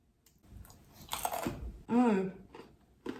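Someone bites into and chews homemade caramel peanut brittle at close range: crisp crunches and clicks in short bursts, with a brief voiced murmur in the middle.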